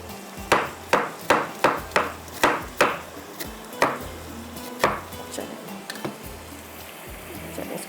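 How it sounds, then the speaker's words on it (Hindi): Ginger is chopped into slices on a board in a home kitchen, about a dozen sharp, close knife strikes in a quick, even rhythm that slows and softens toward the end, with no talking. "अदरक स्लाइस में कटिंग करके डाल देते हैं"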